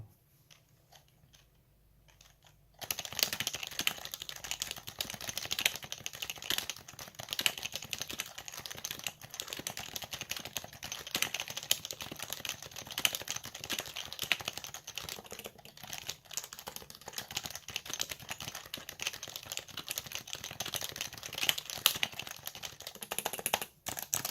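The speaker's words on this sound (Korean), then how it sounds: "자 이제 좀 세게 원래 제가 타이핑하는 것처럼 타이핑 해보도록 하겠습니다" Hard, steady typing on a Happy Hacking Topre keyboard with unlubed switches, a dense run of close, rapid keystrokes that goes on without pause after a brief silent start.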